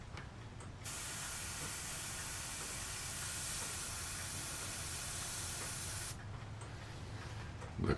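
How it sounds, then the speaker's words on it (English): A test burst of spray paint is sent from a can or airbrush while painting a model ship, a loud continuous close hiss lasting about five seconds before cutting off to quieter room noise. "this should spray okay. Let's just give it a little test here first."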